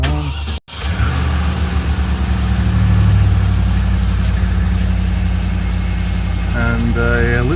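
A Land Rover Discovery 2 engine idles hot and steady in park, a loud continuous low rumble throughout, with a brief dropout near the start and a rising whine toward the end.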